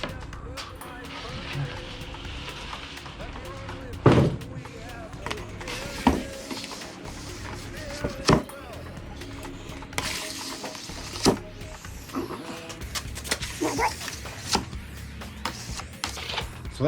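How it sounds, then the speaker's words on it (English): A custom scraper drags across a snowboard base during a hot scrape, lifting off excess wax in repeated rasping strokes with sharp scratchy bursts, while a person talks over the work. "So that's just scraping off the excess wax"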